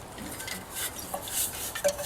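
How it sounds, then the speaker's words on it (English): Metal camp stove pulled off the bottom of a Stanley stainless steel canteen cup, giving a few light clanks and scrapes of metal on metal, close and fairly quiet with no talking. "And then the stove on the bottom comes off"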